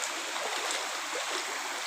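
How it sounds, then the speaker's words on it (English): Water leaks from a broken pipe into a small river, a continuous bright rushing and trickling wash that stays even and fairly close for the whole moment, with no voices. "Water is coming from pipe. See, leak pipe."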